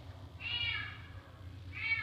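A male house cat purrs with a low, steady rumble close to the microphone, broken by two drawn-out meows, one near the start and one at the end.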